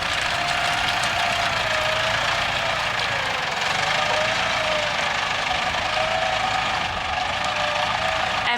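A farm tractor's engine runs steadily and loudly nearby while tipping a load, a continuous mid-pitched drone with a faint whine riding on top and no break.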